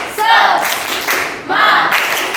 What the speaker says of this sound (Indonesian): tepuk tangan untuk kita semua. Tepuk semangat